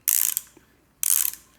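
A ratchet with a 7/16 socket runs down bolts during a camshaft install on a 1986 C10's 360 small-block V8. There are two quick, close bursts of rapid clicking, separated by a short pause, with no talking.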